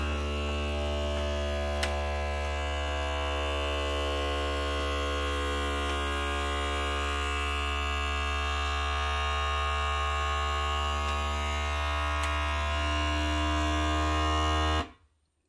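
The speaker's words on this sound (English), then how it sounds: "this is an Avalon Bay vacuum sealer" An Avalon Bay vacuum sealer drones with a steady, loud electric hum for about fifteen seconds, then cuts off abruptly.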